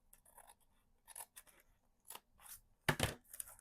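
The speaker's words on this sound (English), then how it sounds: "So I am just going to attempt to cut just a sliver off" Blades snip a thin sliver off a page of a Little Golden Book, a series of short, crisp cutting crunches in close, quiet bursts, ending with one louder, longer cut.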